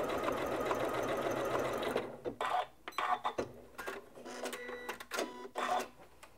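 A Janome MC9400 sewing machine stitches a heavy stitch, first as a dense continuous run of needle clatter, then in short separate bursts with brief pauses between them. The sound is close and clear, with no talking.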